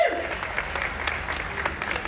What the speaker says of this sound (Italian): ci diamo un applauso ancora una volta